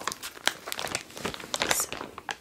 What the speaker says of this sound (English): so we now have the bag open, able to get the plastic cover off